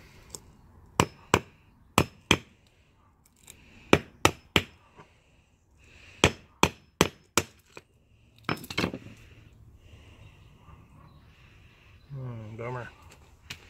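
A hammer strikes a geode in quick rhythmic groups of sharp, close metallic knocks, pausing between bursts, with a voice speaking briefly near the end.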